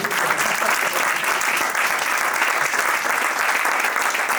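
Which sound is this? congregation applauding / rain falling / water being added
congregation applauding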